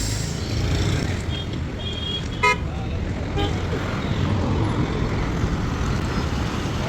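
A bus horn sounds at a roadside stop amid steady traffic rumble, with brief toots and passing vehicle noise close by; faint voices drift in the background.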